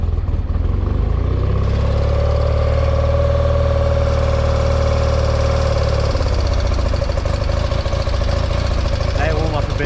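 A 1978 BMW R80/7 former police motorcycle, very cold, is cranked into life and settles to a loud, close, throbbing idle with a lumpy low rumble that drops back partway through.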